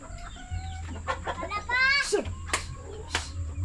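Chickens cluck and squawk close by in short bursts, with people talking over them and a low steady hum underneath.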